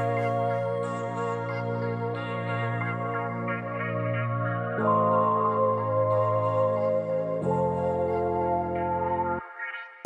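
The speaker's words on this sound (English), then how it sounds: "That loud vibrating sound you can hear are vibrators which are attached to the body of the lorry to give it a shake" Vibrators fixed to the body of a volumetric concrete mixer lorry give a loud, steady droning hum with a strong buzzing tone that shifts pitch in a few abrupt steps before cutting out at the end.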